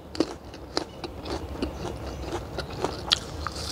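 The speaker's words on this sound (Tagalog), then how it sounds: "Yung balat niya, matigas na crunchy, pero hindi naman siya nahirap kainin." Crisp, close bites and crunches into firm jujube fruit come in an irregular series of sharp clicks over soft chewing, with no talk.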